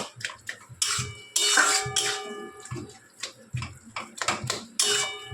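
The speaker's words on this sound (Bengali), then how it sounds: "এটা নেড়ে যেতেই হবে, এটা থামলে চলবে না।" Taro leaves (kochu shak) are stirred in a cooking pan, the spoon scraping and clanking against the metal in irregular bursts, close and fairly loud, with sizzling between strokes.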